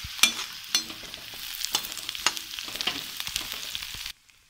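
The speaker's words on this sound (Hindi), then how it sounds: "अब हम इसमें चुकंदर डालेंगे और 1 मिनट के लिए और फ्राई करेंगे" Grated beetroot frying in a pan for gobhi manchurian, soft sizzling broken by sharp scraping and tapping stirs at an irregular pace, close and fairly quiet, ending in near silence.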